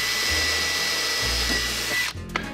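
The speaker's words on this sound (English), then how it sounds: "Take a drill bit, drill out your holes." A power drill with a bit bores holes in wood, a steady close whir that shifts pitch as it runs, then winds down abruptly near the end.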